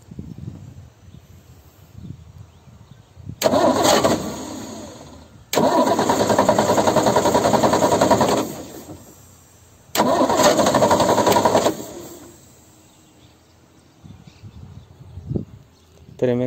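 A Ford Falcon engine cranks and turns over in three separate bursts of a few seconds each, loud and close, with quieter gaps between attempts.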